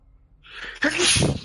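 A single sharp human sneeze with a brief inhaled build-up, close and loud, during a tabletop role-playing game session.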